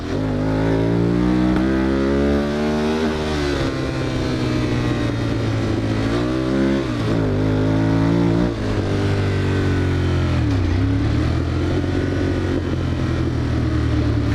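A motorcycle engine revs repeatedly up close, its pitch rising and falling with sharp throttle response across about fourteen seconds, loud and continuous with no talking.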